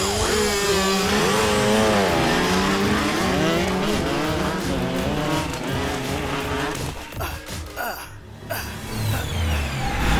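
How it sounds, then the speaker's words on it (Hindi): Motorbike ridden recklessly on a road, engine revving loudly with tire squeals and skids, sustained and close, then breaking into sharp bursts near the end amid shouting voices. "किस तरह बाइक चला रहा है?"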